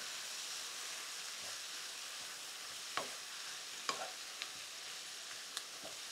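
Food with turmeric and salt fries quietly in a covered pan, a soft, steady sizzle and hiss with a few sharp pops and crackles scattered throughout.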